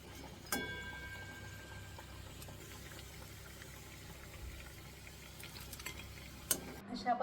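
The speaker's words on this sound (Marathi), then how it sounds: "हे आपण तळून बघूया।" Fasting-style coriander vadi pieces hiss softly as they fry in hot oil, with a steady low sizzle, a couple of sharp clinks of a utensil against the pan, and faint stirring.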